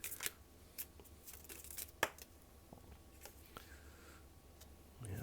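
Tarot cards being shuffled and drawn in a reading: soft riffling and sharp card snaps, with one crisp slap near the middle, fairly quiet and close, with no talking.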